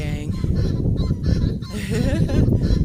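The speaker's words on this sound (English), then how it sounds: "loud guinea fowl" Guinea fowl call loudly and continuously from close by along a Ghanaian neighborhood street, their harsh, repeated cackles layered into a dense, unbroken chorus.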